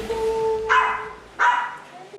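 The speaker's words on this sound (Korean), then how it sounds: "이곳엔 열댓 마리의 강아지가 있었습니다." Goldendoodle puppies in an apartment where about a dozen dogs are kept, two short yapping barks from a little way off, heard over a faint steady background tone.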